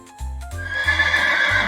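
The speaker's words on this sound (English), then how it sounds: "It's a horse, and horse says," A horse neighs loudly, a long whinny with a shaky tremolo that rises and falls, accompanied by low rhythmic hoof-like thumps, and nothing else is heard.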